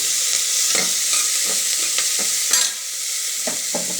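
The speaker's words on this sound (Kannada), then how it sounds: "ಕಂದು ಬಣ್ಣ ಬರೋವರೆಗೂ ಒಂದು 2-3 ಮಿನಿಟ್ಸ್ ಫ್ರೈ ಮಾಡಿ" Something fries in a pan until brown, a loud close sizzle running throughout, punctuated by regular stirring scrapes roughly every half second, with no voices.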